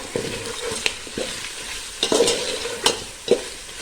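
Ground spices and garam masala being stirred and sautéed in a hot pan for a pulao with chicken, giving a steady sizzle with repeated scraping strokes of the spoon, close and alone with no voices.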